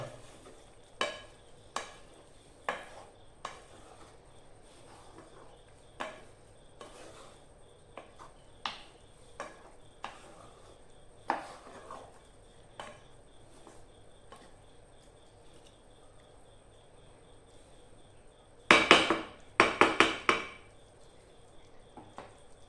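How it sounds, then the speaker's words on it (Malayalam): Chicken masala with tomato sauce being stirred in a pan: sparse, sharp scrapes and taps of a spoon against the pan, spaced irregularly, ending in a louder cluster of quick scraping strokes. "ടൊമാറ്റോ സോസ്, നന്നായി ഒന്ന് ഇളക്കുക"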